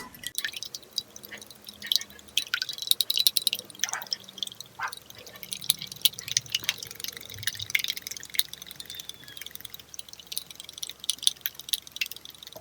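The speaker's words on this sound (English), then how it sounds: "now I have to whisk the egg whites until they're frothy." Egg whites whisked by hand in a bowl until frothy, a fast, irregular stream of wet clicking and sloshing taps, close and fairly quiet, with no talking.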